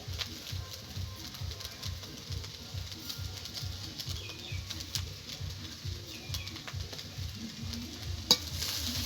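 A spatula stirs vegetables and sugar into fried rice in a sizzling pan, making steady, rhythmic scrapes about twice a second, close up, over a soft frying hiss, with no talking.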